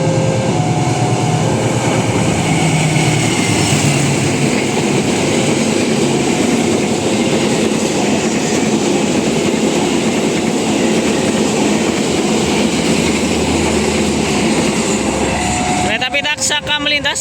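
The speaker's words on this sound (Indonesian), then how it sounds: "kereta api Taksaka melintas." The Taksaka passenger train, Gambir to Yogyakarta, thunders past up close at an Indonesian level crossing, a loud continuous rumble and rattle of wheels lasting many seconds, then a sudden burst of clattering at the end.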